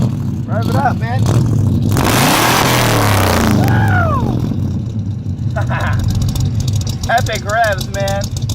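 A 1982 Chevy truck with a Corvette engine revs through its exhaust: a loud, sharp burst of throttle, then the idle rumbling on while people talk nearby, ending with a few quicker blips.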